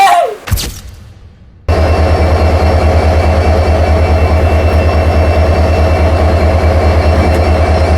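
A Sindhanur to Hubli passenger train runs with a steady, loud low rumble and hum throughout, after a brief quieter stretch with a short whoosh at the start.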